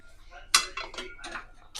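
A spoon scrapes and knocks inside a pot of vegetable pilaf, then a lid clanks down with a sharp metallic clink, followed by a few softer kitchen clatters, near and brief.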